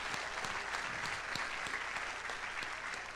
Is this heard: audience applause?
yes